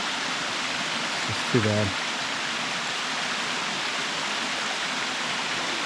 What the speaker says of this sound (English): there's a really awesome waterfall system right there